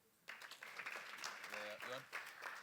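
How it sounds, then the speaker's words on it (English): Audience applause at an estate planning symposium in Uganda, a fairly faint, steady patter of clapping that starts abruptly and carries on for a few seconds with some talk mixed in. "That clap can be louder."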